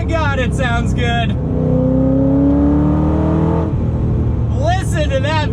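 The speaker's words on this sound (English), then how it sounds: "Listen to that V8, that is ridiculous." A 2006 Ford GT's V8 with manual transmission revs loudly from inside the cabin, a rising engine tone climbing steadily before dropping off, with someone talking over it at the start and end.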